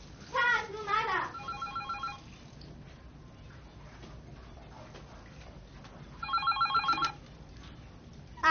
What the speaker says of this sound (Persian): اون تلفن رو جواب بده ببین کیه مادر